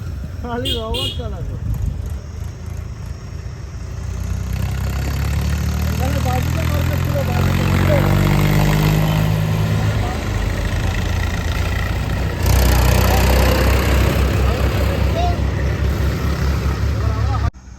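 A truck loaded with paddy seed starts up with a brief crank, then settles into a loud, steady close idle that rumbles on for over ten seconds, with someone talking over it.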